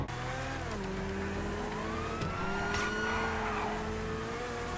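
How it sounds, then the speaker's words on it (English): A police car brakes hard on an emergency vehicle operations driving course, tires squealing in long wavering tones over a steady engine drone, continuous and fairly loud for several seconds. "Brake hard, brake hard off the brakes, low to the apex, finishing the outside edge."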